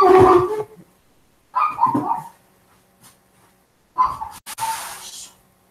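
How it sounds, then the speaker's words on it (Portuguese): A dog barks in short bursts separated by pauses, with some whining in between; close and fairly loud. "Peraí que eu vou ter que fazer ela parar de latir."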